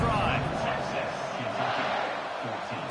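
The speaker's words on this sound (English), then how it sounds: "this crowd is feeling themselves after that last drive" A football stadium crowd in a video game roars loud and steady, a dense wall of cheering that holds without a break.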